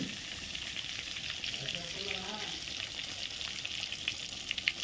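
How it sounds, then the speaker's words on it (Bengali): Eggplant slices frying in the same oil just used for fish, giving a steady close sizzle and crackle of hot oil with light stirring, no talk. "বেগুনটা ভেজে নিচ্ছি।"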